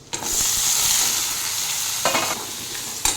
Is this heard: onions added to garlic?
yes